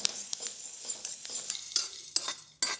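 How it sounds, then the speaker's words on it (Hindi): Jowar grains roasting dry in a hot kadhai with no salt or oil, bursting into sharp, irregular pops and crackles several times a second over a faint sizzle, close and fairly quiet. "सारे दाने अपने आप ही फट रहे हैं।"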